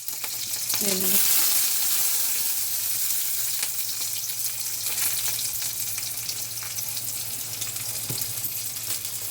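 Green chillies frying in hot oil in a kadai for a ridge gourd peel and chana dal chutney, a bright steady sizzle that swells at first and then settles, with a few faint scrapes close by.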